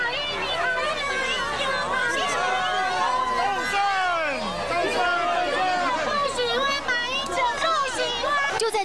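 A dense crowd presses around the president at a Tainan night market, with many overlapping voices and shouts forming a loud, steady hubbub that never lets up.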